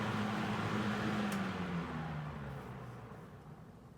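A Manning Bowman 12-inch box fan winds down after being switched off, its low motor hum gliding steadily downward in pitch and fading over a few seconds, heard alone.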